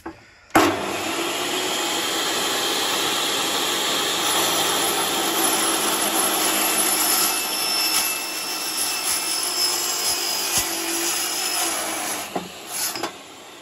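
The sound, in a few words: AliExpress metal cutting disc cutting a pipe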